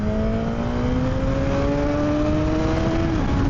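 A 2026 Suzuki GSX-R1000R sport motorcycle engine drones at a steady, slowly rising pitch under loud wind rush, with a brief dip near the end as the revs shift.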